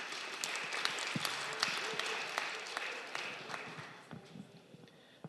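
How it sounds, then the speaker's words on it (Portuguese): Faint, scattered applause from a small audience at a public hearing in Ermelino Matarazzo, São Paulo, a few seconds of light clapping that thins out toward the end. "palmas para o Alberto."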